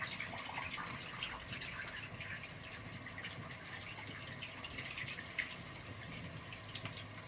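Water runs steadily from a faucet, a constant faint hiss and splash throughout with no talking.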